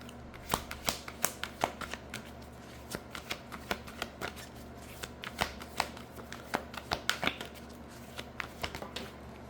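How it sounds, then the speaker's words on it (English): A deck of cards is shuffled by hand before one is drawn, a close series of crisp riffling snaps and taps in an uneven rhythm over a quiet background. "We're gonna pull a little card."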